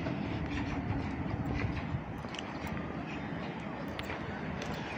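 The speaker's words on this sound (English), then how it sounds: "And we have another district line train arriving" A London Underground District line train arrives at a platform at Barking station, a steady loud rumble of wheels and carriages that eases slightly partway through, with faint station noise around it.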